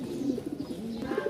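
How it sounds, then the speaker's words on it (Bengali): Pigeons coo softly in repeated low, throaty phrases at a busy pigeon market, several birds overlapping at moderate distance with faint chirps. "আজকে আমাদের হিউজ পরিমাণ কবুতর আছে, 250 পিচ"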